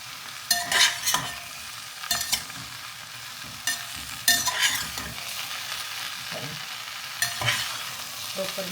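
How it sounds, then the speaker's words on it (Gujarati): Okra curry frying in a pan as turmeric and spices are stirred in, with a steady sizzle broken by several sharp scraping stirs of the spoon at irregular intervals. "તો ચાલો બધા પ્રોપરલી મિક્સ કરી દઈએ એકદમ મસ્ત રીતે"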